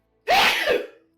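One loud, close human sneeze bursts out and trails off within about a second, heard on its own with no talk around it.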